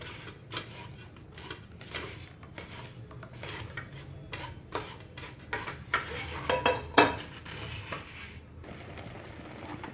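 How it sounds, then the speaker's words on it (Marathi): Tomato ketchup cooking in a kadhai while being stirred, repeated scraping and clinking of a spoon against the metal pan, close and irregular, growing sharper near the end. "ह्याला मस्त आपण घट्ट होईपर्यंत शिजवून घ्यायचं, हलवत राहायचं ह्याला"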